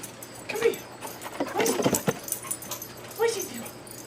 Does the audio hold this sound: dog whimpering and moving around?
yes